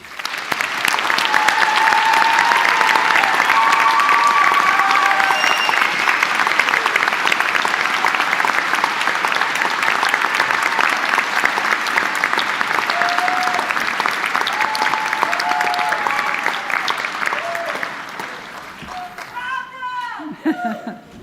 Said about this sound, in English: Please join me, everyone, in giving them a heartfelt round of applause.